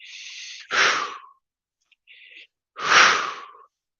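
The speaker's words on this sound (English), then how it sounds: "with a forceful breathing." Forceful breathing exercise: two sharp, loud nasal exhales come about two seconds apart, each a rushing burst of air, with quieter in-breaths before them.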